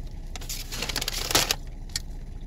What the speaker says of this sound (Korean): 오, 이 바삭한 소리 들리세요?